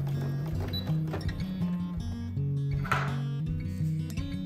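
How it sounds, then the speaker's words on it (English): A sewing machine runs a straight seam on store-bought curtains, its motor whirring in stepped, changing tones with short stops and restarts, close by. "I'm just going to go ahead and sew a straight seam."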